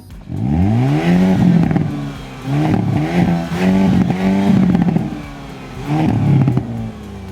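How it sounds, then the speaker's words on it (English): A 2023 Hyundai Kona N hot hatch exhaust swells through repeated revs, four loud rising and falling bursts with crackling burble between them, heard close and alone. "they burble when you rev it up"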